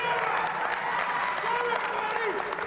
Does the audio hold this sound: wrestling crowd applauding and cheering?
yes